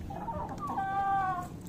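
A hen clucks close by in a backyard setting, a drawn-out rising cackle over a busy low background rumble.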